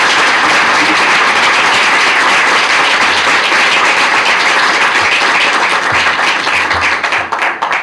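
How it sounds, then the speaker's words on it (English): Audience applause for forum panelists at a First 1,000 Days policy forum, a dense, steady wash of clapping from a large room that holds level for nearly eight seconds and thins slightly at the end, with no talk over it. "Let's give our panelists a big round of applause."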